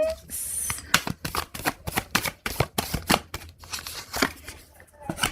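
Tarot cards riffled and drawn in a run of crisp, rapid flicks and slaps, close and fairly loud, with a quiet voice murmuring underneath at times.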